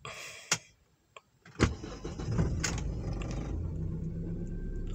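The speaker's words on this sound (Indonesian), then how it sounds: "Kita ACC sekalian kita nyalakan mobilnya ya." A car engine cranks and starts after an ECU reset: a couple of click-like clunks from ignition, a brief starter whir, then the engine catches and settles into a steady, close idle rumble.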